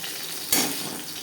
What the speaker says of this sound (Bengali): মাছ আমি হালকা করেই ভেজে নিলাম আপনারা চাইলে এর থেকেও কড়া করে ভেজে নিতে পারেন